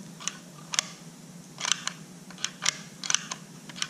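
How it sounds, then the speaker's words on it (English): A push button catch being pressed, producing several small sharp clicks, some in quick pairs, faint and close against a low steady hum. "Push the button."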